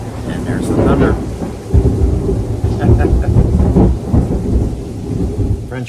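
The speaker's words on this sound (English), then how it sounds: "And there's the thunder." Thunderstorm heard from inside a garage, a loud close rolling rumble of thunder over steady rain that builds and sustains throughout.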